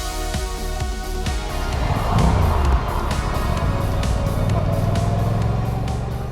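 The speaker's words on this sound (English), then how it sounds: "we are riding the Suzuki GSX-8S" A Suzuki GSX-8S motorcycle being ridden, its engine a steady droning hum that swells slightly after the first couple of seconds, heard up close under rushing wind.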